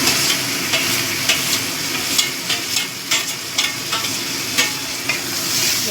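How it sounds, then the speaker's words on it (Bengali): Lote fish (Bombay duck) with spices sizzles loudly in a pan while a spoon stirs it, scraping in irregular bursts over the continuous frying hiss. "এবার এগুলো ভালো করে মিশিয়ে নেব। এবার লোটে মাছটা দিয়ে দেব।"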